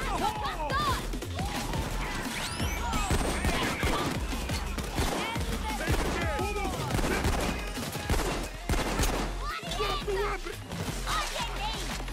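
Dense, continuous gunfire in the shooter game Payday 2 fills the whole stretch, with rapid shots, crashes and impacts layered together, loud and close, and a voice talking over the din.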